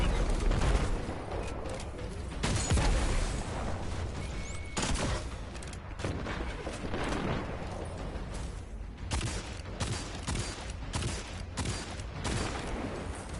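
Rocket launcher blasts in the sci-fi shooter Destiny 2, several heavy booming shots ringing out amid constant loud gunfire and combat din.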